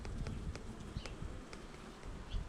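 Honeybees buzz softly around a hive frame as it is eased out, a faint, steady insect hum with small bumps and handling noises close by.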